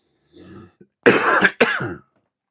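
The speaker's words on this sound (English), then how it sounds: "Excuse me for coughing down this bloody microphone" A faint throat clear followed by two loud, close coughs right into a microphone.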